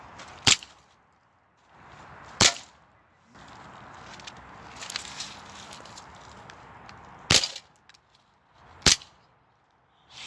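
Airsoft gun fired outdoors: four sharp, loud snaps spaced a couple of seconds apart, separated by quiet handling noise and faint rustling.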